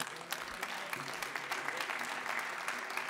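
An audience at a film festival award ceremony applauds in a steady, even wash of clapping, fairly distant and uninterrupted throughout.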